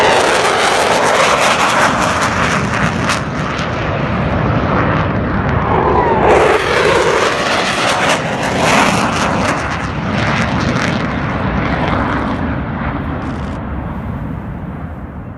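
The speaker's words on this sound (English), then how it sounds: "one video on the phone of a couple of F-15s coming through" A pair of F-15 fighter jets flying past, a loud sustained roar that swells and rumbles over several seconds before gradually fading, with no talking.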